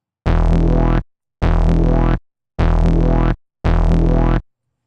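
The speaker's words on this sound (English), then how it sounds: "And we're going to do it using a bass shot sample." A bass shot sample triggered four times in Ableton Live's Simpler, each a loud, full, distorted low hit lasting under a second, separated by short silences.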